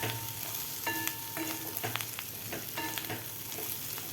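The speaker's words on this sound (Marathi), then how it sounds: "परत एकदा आपण मिक्स करून घेऊया" Brinjal bhaji being stirred and mixed in a pan, a dry Maharashtrian eggplant dish with plenty of fresh coriander, giving soft scraping strokes and light sizzling at close range with no talk.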